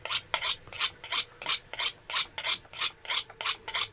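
A knife blade scrapes rhythmically across the coarse side of a sharpening stone, about a dozen even, close rasping strokes in quick succession with no talk.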